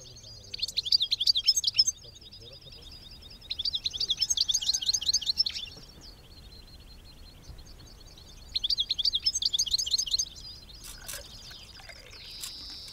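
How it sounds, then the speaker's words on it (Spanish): Caged wild songbirds chirp in three loud bursts of rapid, high-pitched twittering separated by quieter pauses, with fainter calls continuing between them. "Una a una vamos sacando las jaulas de su funda de transporte, en la que los pájaros han permanecido a oscuras para evitarles estrés durante el viaje."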